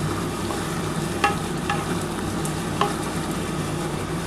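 Tawa chicken sautéing in a pan as it is stirred, giving a steady broadband sizzle with a few brief scraping clicks from the spatula, close and moderately loud with no talking.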